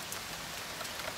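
Pouring rain drums steadily outside a newly finished nursery building, an even, dense hiss of drops close by with no voices.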